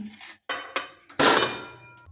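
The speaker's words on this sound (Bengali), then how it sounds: "এখন ছানাটা একটা কড়াইয়ে নিয়ে নিচ্ছি।" Several sharp metallic clatters and scrapes in quick succession, ending in a longer rattling scrape, as kneaded chhena cheese curds are tipped into a metal kadai wok, close by.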